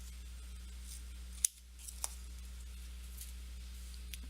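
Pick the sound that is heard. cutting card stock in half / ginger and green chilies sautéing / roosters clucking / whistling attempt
cutting card stock in half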